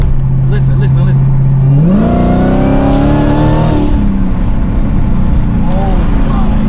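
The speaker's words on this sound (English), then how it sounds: "The whine from the supercharger is crazy." A car running with its hood off lets out a loud supercharger whine that holds steady, then rises in pitch as the engine revs, with a voice talking excitedly nearby.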